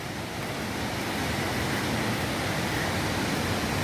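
A waterfall at Lake Sebu in the Philippines roars as a dense, steady rush of falling water, loud and close, with no other sounds standing out.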